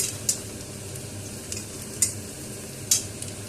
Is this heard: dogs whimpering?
no